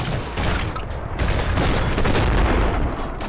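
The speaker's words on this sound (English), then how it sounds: "Matt, did you just flashbang us?" Flashbang grenade going off in a video game heist mission, a dense burst of booms and gunfire crackle that stays loud and continuous through the whole stretch, with no talk over it.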